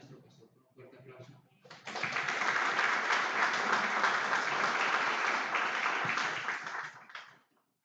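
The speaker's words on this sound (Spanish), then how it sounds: "vamos a recibir a nuestro pastor con un fuerte aplauso" A church congregation welcomes the pastor with loud applause. Brief talk comes first, then dense sustained clapping for about five seconds before it stops abruptly.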